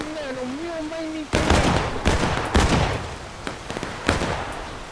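A volley of musket fire in War of Rights, several loud cracking shots at uneven intervals after a brief stretch of ambient battlefield noise, with echoing reports and rumble between them.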